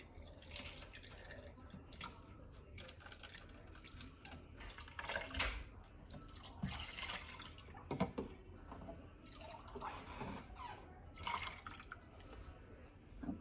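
Canned milk pouring into a pork chop and potato casserole, faint gurgling liquid trickling and dripping in soft irregular splashes, quiet and close throughout.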